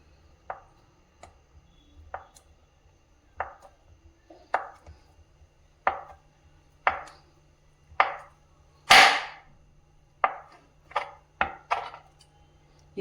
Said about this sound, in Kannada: ಇದನ್ನ ಚಿಕ್ಕಕ್ಕೆ ಕಟ್ ಮಾಡ್ಕೊಳ್ತೀನಿ